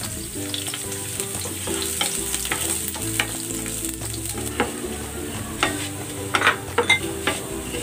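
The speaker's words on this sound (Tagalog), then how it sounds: "Igigisa ko na tong bawang." Garlic sautéing in hot cooking oil for chicken pork adobo, a constant close sizzle and crackle with stirring scrapes and occasional sharper pops.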